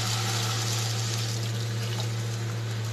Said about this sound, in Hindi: अब मैं इसमें एक से डेढ़ गिलास पानी ऐड करूँगी